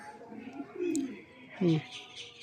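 Pigeons at a pigeon keeper's loft give a couple of short, low cooing calls close by, with faint speech and light background noise around them.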